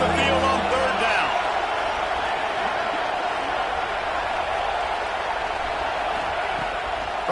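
Home crowd at a college football game roaring steadily as the defense tries to get off the field on third down, a dense continuous wash of cheering and whoops with no clear breaks.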